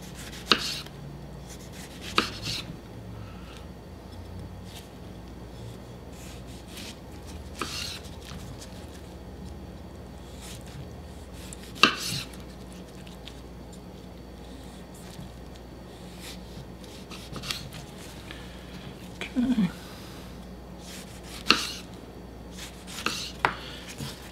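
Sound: slicing tomato thin with a knife

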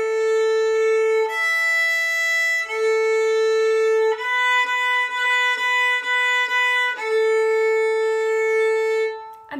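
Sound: violin playing The Seesaw Song in 3/4 time

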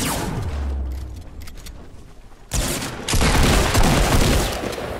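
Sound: gunfire in the video game Fortnite

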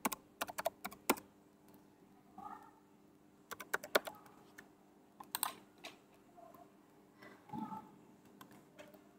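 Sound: typing email and password on a computer keyboard

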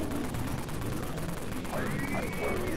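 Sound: gunshots from the video game Dead Frontier 3D

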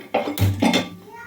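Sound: wide kadai pan set on the stove

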